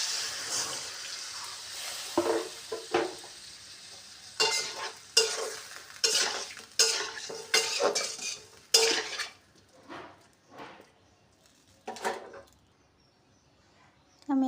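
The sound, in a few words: water added to pan cooking pabda fish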